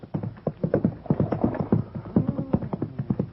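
Horse hooves clip-clop steadily on a road as a horse pulls a cart in a 1950 Western radio drama, rapid, even beats close by and with no voices over them.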